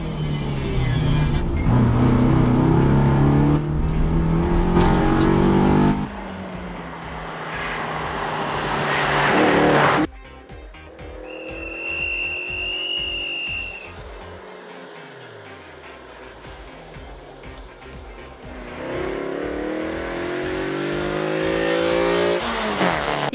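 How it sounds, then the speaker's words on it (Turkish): An Opel Corsa CSI rally car engine roars at high revs during a hill climb race in Biga, Çanakkale, rising and falling through gear changes, loud and close at first, fading, then surging back. "Opel Corsa CSI'nin motor sesleriyle yarış performansını"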